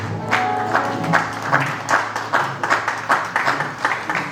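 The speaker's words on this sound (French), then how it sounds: "Acclamons pour la gloire de notre Dieu." Congregation applauding at a church service, steady rhythmic clapping from many hands filling the room, pulsing in time as if clapping along, with no talk over it.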